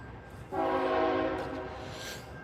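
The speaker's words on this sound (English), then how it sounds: "Motherfucking train, homie." A train horn sounds over a passing train, a sustained blast of stacked steady tones lasting about a second before fading into the continuing rumble of the train outdoors.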